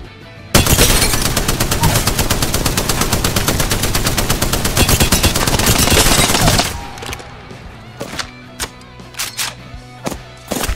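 Rapid automatic gunfire in the Apex Legends video game rattles in a dense, loud burst for several seconds, then gives way to scattered single shots and impacts.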